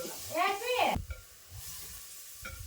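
Green chili paste and turmeric powder frying and being stirred in a pan, with a brief tonal squeal at the start, a sharp scrape, then a soft, steady sizzle and a few spoon knocks near the end.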